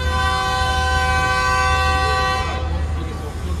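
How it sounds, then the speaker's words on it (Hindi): A train horn sounding at Bandarawela station in Sri Lanka, one long, loud, steady multi-tone blast held for about two and a half seconds before cutting off into station ambience. "यहाँ पे ट्रेन ने हॉन्क दे दिया है और अभी डिपार्ट होगी अपनी बांदरवेला से"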